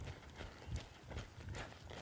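A horse's hooves clip-clop in a steady rhythm as the animal bends and moves back toward its trainer during groundwork, fairly close and clear with no talking.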